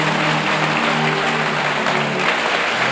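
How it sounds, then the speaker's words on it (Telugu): Loud, sustained applause from a church congregation, dense steady clapping filling the space throughout with no pauses. "గట్టిగా చప్పట్లు కొట్టండి"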